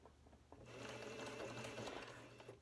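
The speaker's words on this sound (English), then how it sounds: "You can see this is flat right here, so we can sew across it." Sewing machine stitching slowly across a fabric dog diaper, starting after a brief pause and then running as a steady close buzzing whir, with no talking.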